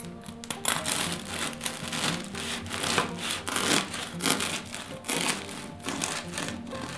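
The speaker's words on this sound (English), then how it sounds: "let's go ahead and slice this open and we'll see what the crumb looks like" A knife sawing through a crusty loaf of sourdough bread, with rhythmic rasping strokes and crackling crust, fairly close and clear with no talking.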